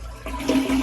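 A house toilet flushes in a short, loud, close rush of water, with no talking.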